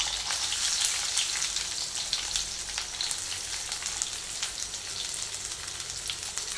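Shallots and curry leaves frying in plenty of refined oil over a slow flame, a dense, bright, continuous crackle like light rain, close and steady.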